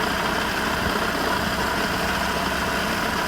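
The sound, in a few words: Audi RS3 8Y engine idling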